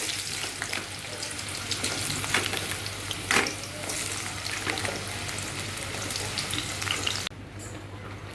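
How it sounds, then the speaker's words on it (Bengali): Potatoes hiss and sizzle steadily in hot oil in a kadai while a prawn and spinach dish is cooked, with scraping stirs and a brief splash partway through before the frying noise drops slightly. "তেল গরম হয়ে গেছে, আমি এখন আলু দিচ্ছি।"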